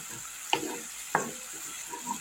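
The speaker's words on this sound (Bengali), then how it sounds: "মশলাটা এখন কষাতে থাকি যতক্ষণ না তেল ছাড়ছে" Spice paste with asafoetida sautéing in oil in a pan for a homemade chhana bora curry, a faint steady sizzle broken by two sharp spoon knocks against the pan.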